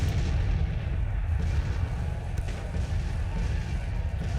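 Civil War artillery in Grand Tactician, a dense continuous low rumble of distant cannon fire and battle noise, heavy and unbroken throughout, with no distinct individual shots and no talk.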